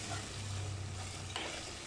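Food frying and being stirred in a pan produces a faint, steady sizzle with a low hum beneath and a brief scrape of the spoon near the end, close by, with no talking.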